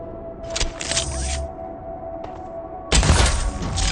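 Gunfire from a gun in the video game ECHO: two or three loud bursts, one around the half-second mark, a shorter one near one second, and a longer louder blast toward the end, with a steady hum beneath.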